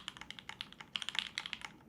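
Typing on a Flx Virgo split keyboard gives quick, close, fairly quiet key clicks in an irregular rhythm, with a denser burst of taps midway through and no talk.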